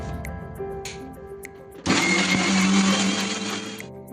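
A blender whirs loudly and steadily for about two seconds as it purées kiwi, banana and chilled curd into a smoothie, starting abruptly after a quieter stretch and then stopping.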